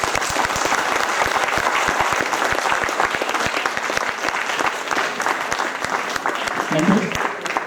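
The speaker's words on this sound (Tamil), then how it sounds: "தயவு செய்து கைதட்டுவோம் எல்லாரும்" An audience at a Tamil cultural festival welcome event claps steadily and continuously, a dense, even wash of applause that keeps up at the same level for the whole stretch.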